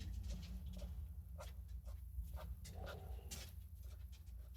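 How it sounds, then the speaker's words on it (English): Dogs whine and vocalize softly in short bursts beneath a steady low background hum, fairly quiet and somewhat distant, with no talking. "My dogs are talking to me."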